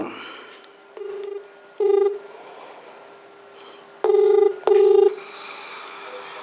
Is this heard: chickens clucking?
no